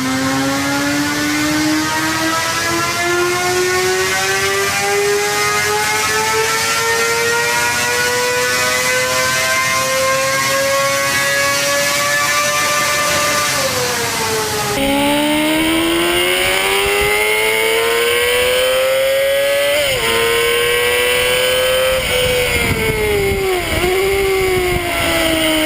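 A 1990s superbike engine with a 19,000 rpm limiter screams through rising revs, its shrill, high-pitched wail climbing in long sweeps with brief dips between gear changes, loud and sustained throughout, sounding much like an old Formula 1 engine.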